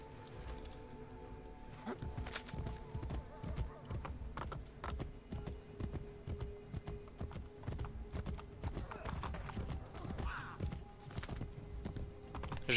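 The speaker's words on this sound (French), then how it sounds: "J'appelle le cheval." Horse hooves galloping in Assassin's Creed Brotherhood, a steady, fairly quiet clip-clop rhythm through most of the stretch, with a brief whinny and light clicking alongside.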